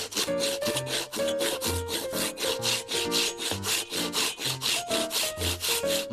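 A thick felled tree is hand-sawn for firewood in long, even back-and-forth strokes, each pass a loud rasping scrape of the blade through the wood, close by and with no talking.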